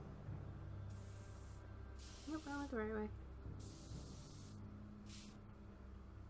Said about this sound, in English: So she's spray painting.